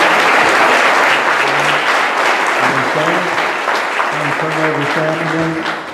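Sustained applause from a crowd at a luncheon fills the whole stretch, steady and loud, with some voices and chatter mixed in underneath toward the end.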